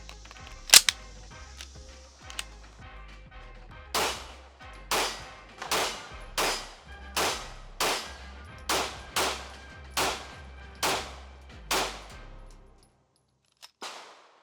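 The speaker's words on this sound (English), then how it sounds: "we're gonna go ahead and shoot this thing. I'm gonna take a couple slow shots." Rifle shots fired while testing a Cyelee Cobra-X Pro optic: two early sharp cracks, then about nine evenly spaced booming shots roughly a second apart, loud and close, ending with faint clicks and handling noise.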